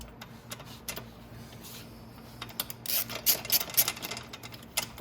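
Rapid ratcheting clicks from a socket wrench loosening cylinder head bolts on a Venom X22r 250cc motorcycle, in quick close bursts that grow denser toward the end, with no talk.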